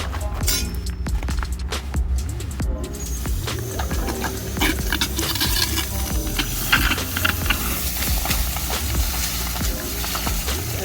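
Welding during fabrication of custom sleepy-eye headlights for a C5 Corvette drift car, a steady close crackling sizzle that runs without a break for the whole stretch, with no talking.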